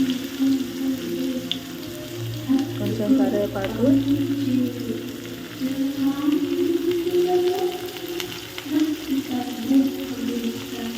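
Onions frying in a pan with bitter gourd, a continuous close sizzle with occasional stirring scrapes and faint tonal squeaks, no talking.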